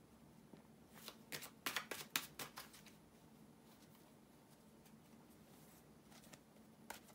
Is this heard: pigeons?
no